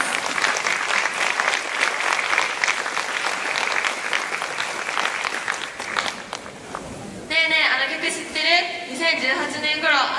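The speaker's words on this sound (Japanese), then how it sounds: "改めて1年生の子たちに大きな拍手をお願いします" An audience at a junior high school brass band performance at a city event applauds loudly for a dance by first-year students, with dense clapping for about six seconds. Then it fades and a voice speaks into a microphone.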